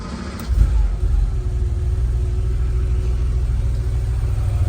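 A 1986 Porsche 911 Carrera Targa engine starting up and settling into a steady, throaty idle, a low rumble that holds strong and even throughout.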